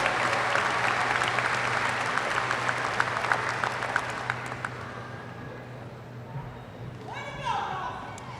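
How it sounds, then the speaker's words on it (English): Applause at a university commencement ceremony for the graduates' supporters, a dense round of clapping from a large audience that fades out by the midpoint, followed by quieter room sound and a voice. "Graduates, let's give this group of supporters a huge round of applause."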